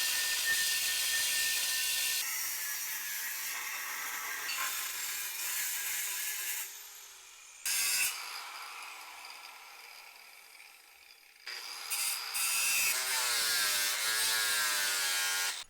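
A sanding disc works aluminum parts of a Honda Shadow 750 chopper, a harsh high grinding hiss in long runs broken by abrupt stops and restarts, close and loud, with a pitch-wavering spin-down near the end.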